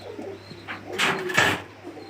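Fancy pigeons in a loft giving low, throaty coos up close, a couple of rolling calls with a faint steady hum underneath.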